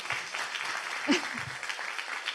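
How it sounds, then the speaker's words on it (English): Applause from a closing plenary audience at an internet governance forum after a panel, a soft, fairly distant wash of clapping with a brief thump and faint voice partway through. "Another round of applause"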